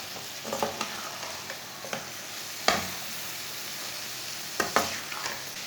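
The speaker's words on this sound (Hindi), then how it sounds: "अच्छी तरह मैंने इसे मिक्स कर लिया" Minced keema with capsicum stirred in a pan, a soft continuous sizzle with scattered scrapes and a few louder spoon knocks against the metal, close and without voices.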